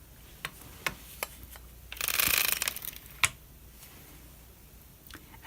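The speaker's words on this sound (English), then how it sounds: "I am using my crescent tool and I'm going to lift all of the back stitches out of work" Crescent tool lifting needles out of work on a circular sock knitting machine, heard as sparse sharp metallic clicks and a brief ratcheting rustle, close and fairly quiet, with no talking.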